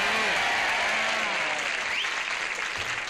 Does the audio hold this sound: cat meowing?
no